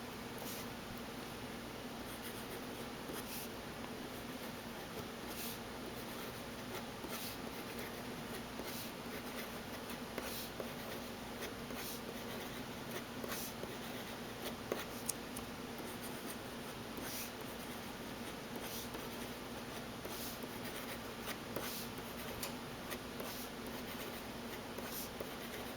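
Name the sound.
writing on paper with a Pilot Plumix fountain pen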